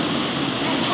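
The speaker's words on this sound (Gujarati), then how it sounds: "વરસાદ શરૂ થઈ ગયો છે, મોટા મોટા સાંટા આવો મીડ્યા છે જોવા તમે." Steady, dense hiss of heavy rain with large drops pouring down outdoors, continuous and fairly loud throughout with no break.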